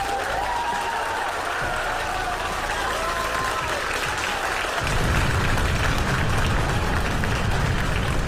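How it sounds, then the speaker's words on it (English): Sustained applause and cheering from a crowd in a simulated rocket launch control setting, marking stage separation, steady and dense throughout and swelling louder partway through. "As you can probably tell from that applause"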